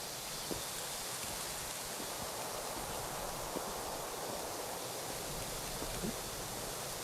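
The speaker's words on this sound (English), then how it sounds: "So there is even a waterfalls also in this particular space" A waterfall in a Unity-built game environment gives a faint, steady hiss of falling water, with a few soft clicks and no voices.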